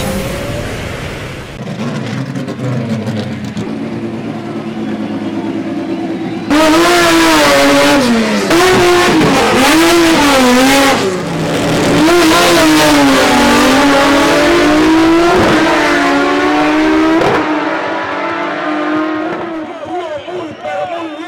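Street drag race cars from a Ford versus Chevrolet duel in Buenos Aires, loud engines revving hard and climbing through gears in repeated rising sweeps, very close, with a steady roaring wall of sound over most of the stretch.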